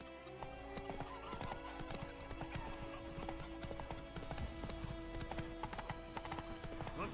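Roach the horse galloping in The Witcher 3, a fast rhythmic clip-clop of hooves with an occasional whinny, faint and steady throughout, backed by game music and ambience.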